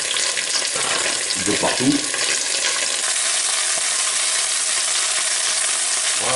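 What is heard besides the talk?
chicken sautéing in a pan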